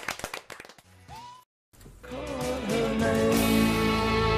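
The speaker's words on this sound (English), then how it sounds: "A little round of applause in the Steve Wright style" A brief, sparse patter of a few hand claps in a BBC 6 Music radio studio, followed by a short silence and then music swelling in.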